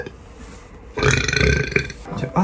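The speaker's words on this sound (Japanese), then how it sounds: "朝めっちゃゲップ出るんやけど" A person lets out a loud, drawn-out, rumbling burp close to the mic, lasting over a second, followed by a shorter trailing belch.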